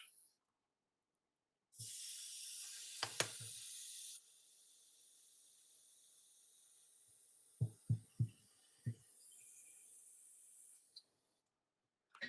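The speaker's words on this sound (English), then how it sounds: "I'm using the thinner to clear the airbrush" Airbrush spraying thinner through to clean it out, a steady bright hiss lasting a couple of seconds then continuing more softly for several seconds, with a few low thumps in between.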